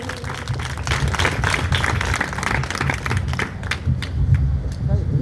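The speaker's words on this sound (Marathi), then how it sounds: "त्यांच्यासाठी जोरदार टाळ्या झाल्या पाहिजे हा." An audience claps loudly and steadily in thanks for temple service volunteers, a dense sustained applause that fills the whole stretch with no gaps.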